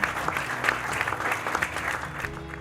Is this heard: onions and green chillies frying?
no